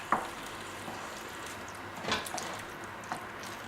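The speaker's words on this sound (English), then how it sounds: "And mix it again." Chicken porridge being stirred in a pot on a hot stove, giving a soft continuous bubbling and scraping texture with a few light clinks of a spoon against the pot, quiet and close.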